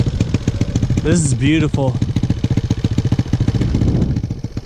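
An Elite 80 scooter with a straight pipe exhaust, its engine popping and revving loud and close in a rapid sputtering rhythm, with someone speaking briefly over it.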